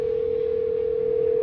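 Steady telephone dial tone heard while placing a call, a single continuous unbroken pitch held at even loudness throughout, with no voices over it.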